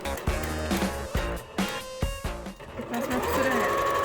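A sewing machine stitches a handle on an Easter gift bag in short bursts of rapid mechanical whirring, stopping and restarting several times at close range.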